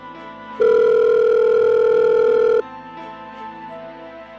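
A mobile phone's outgoing call tone sounds as one steady, loud electronic tone held for about two seconds, then cuts off, leaving quiet room noise.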